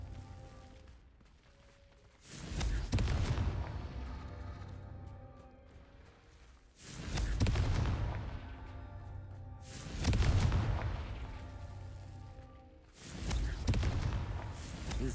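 Four loud, booming Confringo blasting-spell explosions go off in Hogwarts Legacy, spaced a few seconds apart, each a heavy burst that rolls and fades slowly, with no talking.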